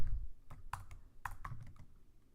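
Fingers type Python code on a computer keyboard in a quiet room, a short run of light, irregular key clicks, close and unhurried, with no talking.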